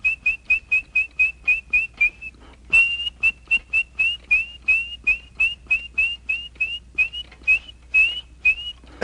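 An animatronic robin from Mary Poppins whistles a long run of short, bright chirps in steady rhythm, close and clear, with a brief pause before resuming the same repeated pattern.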